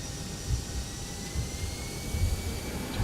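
Airbus A321 jet engines in the X-Plane flight simulator spooling up, a steady broadband roar with a thin high whine, loud, even and close, with no voices.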